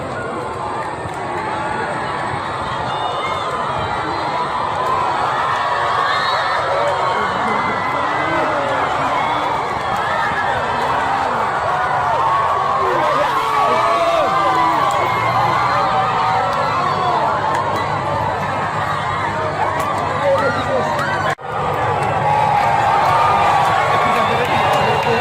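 Large crowd gathered around Indonesian President Joko Widodo during the COVID-19 pandemic, a dense, steady roar of many voices, shouts and cheers filling the whole stretch at close range.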